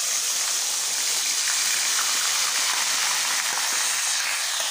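Water pours into a plate beside a pan of egg and potato curry, making a steady, close broadband rush that runs unbroken for the whole stretch with no voices.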